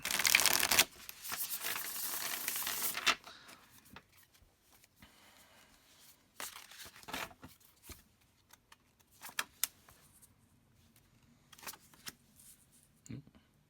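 Tarot cards are riffled in a brisk burst, then quieter scattered taps and slides as cards are laid and spread out.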